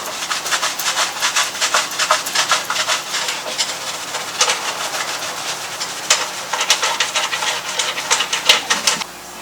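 A razor blade scrapes stickers off brand-new car parts for a Honda S2000 build, making a steady series of quick, close, raspy strokes that repeat in uneven rhythm for several seconds with no talk.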